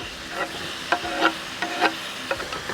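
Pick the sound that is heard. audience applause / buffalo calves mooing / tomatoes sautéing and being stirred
tomatoes sautéing and being stirred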